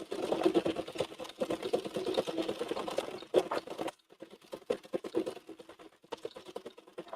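An Addi knitting machine is cranked at a steady pace, its rapid mechanical clicking and rattling running without pause before dropping quieter partway through and continuing in lighter, uneven bursts.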